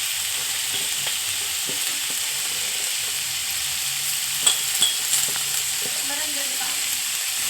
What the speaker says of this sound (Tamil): இப்போ முட்டைக்கோசு சேர்க்க போகிறோங்க